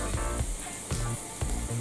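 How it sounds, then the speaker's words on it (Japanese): Flour stir-fried in a pan for chicken curry made with curry powder, a faint dry sizzle with a few soft scraping strokes of a utensil, close and quiet. "これで小麦粉を炒めます"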